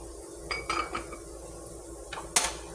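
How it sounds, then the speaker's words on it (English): A spoon stirs flour into simmered onions in a pan while cooking smothered chicken thighs, giving a few scattered clinks and scrapes against the metal pan over a quiet background, with one sharper clack near the end. "You're going to keep on stirring that flour, y'all."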